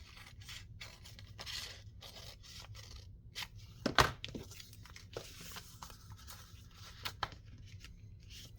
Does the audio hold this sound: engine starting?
no